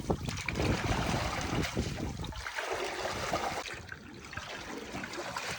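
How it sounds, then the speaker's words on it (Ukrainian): A mop swirls water in a pool, sloshing continuously, with churning splashes and a steady rushing wash, close by. "Спочатку швабри. Зробимо круговорот води."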